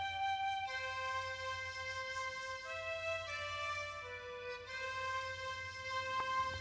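High, piccolo-like synth lead panned slightly to one side in an electronic track, bright sustained stepping notes over a soft low drone, steady and alone.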